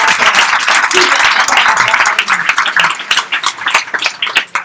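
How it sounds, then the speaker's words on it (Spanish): An audience at a Spanish book event bursts into loud, sustained applause, dense clapping that carries on and begins to thin near the end, with faint voices underneath. "Y otro aplauso para esta chica, Almudena"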